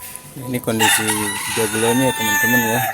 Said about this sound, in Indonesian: Jadi terdengar suara ayam berkokok ya.